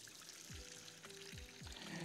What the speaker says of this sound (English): pour water here, which I think I can do like this